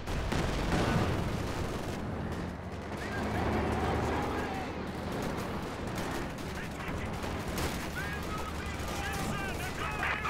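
Video game gunfire rattles in dense, sustained bursts mixed with heavier booms, loud and continuous throughout, with voices faintly underneath.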